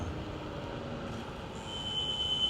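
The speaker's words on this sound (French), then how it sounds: "Toujours le RER." An RER suburban train passes at a distance as a faint, low rumble, with a thin metallic squeal rising near the end.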